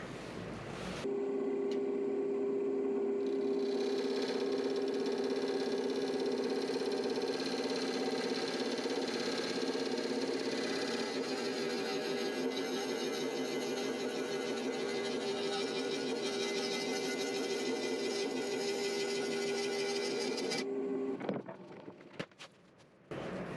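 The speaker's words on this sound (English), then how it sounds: "I'm going to turn this now and see what I end up with" A wood lathe turns a green ash bowl, giving a steady, close motor drone with a whining tone and a scraping texture, before the machine winds down near the end.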